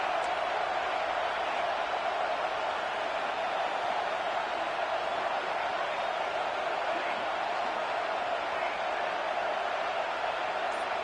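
Football stadium crowd holding a steady, broad roar of cheering and noise on a defensive down, loud and continuous throughout with no distinct voices.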